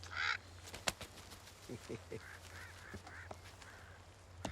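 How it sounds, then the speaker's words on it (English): An African pied crow calls with a few harsh, nasal caws at middle distance. The calls are fairly faint against steady background hum, and a brief voice is heard near the start. "It's a crow, an African pied crow."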